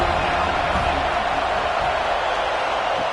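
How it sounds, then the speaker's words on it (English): Stadium crowd noise in a college football video game, SMU against FSU, heard as a steady, dense roar of massed voices with no clear peaks, holding at one level throughout. "this crowd is fired up. Listen to this noise here."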